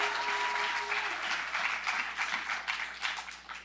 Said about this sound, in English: let's give a huge round of applause for Carmine